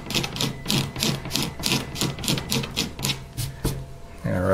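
A razor blade scrapes old finish off an electric guitar body in a series of rhythmic, close, loud rasping strokes, about two per second, with a brief clunk near the end.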